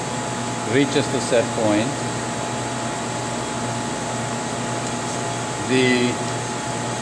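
A Denton benchtop vacuum evaporator with an Alcatel turbo pump runs with a constant droning hum and steady tonal whine, while someone talks over it in short stretches.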